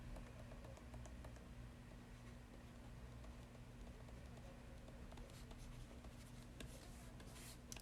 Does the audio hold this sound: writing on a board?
yes